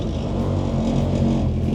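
A 1996 Nissan Micra K11 runs close by, its small engine holding a steady rev with a rough, clattery hum throughout.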